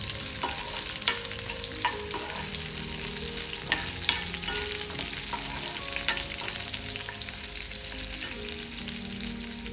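Thinly sliced radish fries in a pan for radish chutney with a constant hissing sizzle. Close, repeated scrapes and clicks of a stirring utensil sound over the sizzle, and no voices are heard.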